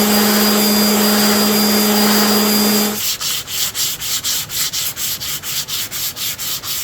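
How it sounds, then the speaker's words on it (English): Rhythmic back-and-forth sanding strokes on repaired wooden chair parts, including newly turned spindles and fixed veneer, start after a steady whirring hum and continue close and loud in a regular, even cadence. "Final sanding and just little adjustments."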